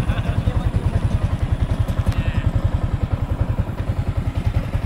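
A motorcycle at a village community hall gathering, its engine chugging in a steady, fast, thumping rhythm close by with some clatter throughout.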